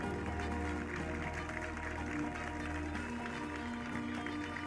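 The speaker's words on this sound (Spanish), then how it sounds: "Fuerte aplauso." Audience applause at the Mister International Spain 2023 pageant, steady and sustained, with a low musical hum running underneath the whole time.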